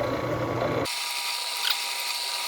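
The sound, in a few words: abrasive engine turning on metal with a drill press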